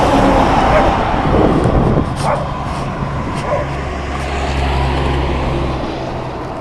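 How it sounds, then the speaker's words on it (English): Traffic rolls past at the Soncy and I-40 freeway interchange in Amarillo, a loud continuous roadway roar with passing vehicles and a dog barking briefly. "there's a lot of traffic here"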